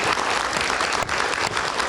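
Studio audience applause on a TV political talk show welcoming a newly joined guest, a steady, dense burst of clapping that carries through the whole short stretch with no pause.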